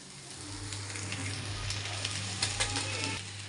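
Chicken noodles tossed with fried rice masala in a hot pan, a steady close sizzle with repeated scraping stirs and a low burner hum running underneath.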